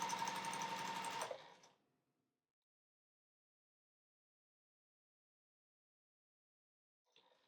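A sewing machine runs steadily for about a second and a half, then stops, leaving silence until a faint rustle near the end.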